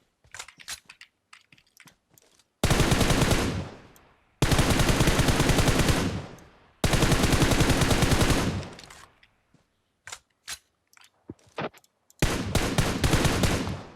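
Loud bursts of automatic gunfire from the battle royale game PUBG Mobile on the new Erangel map, three long sustained volleys and a final one, separated by quieter clicks and taps.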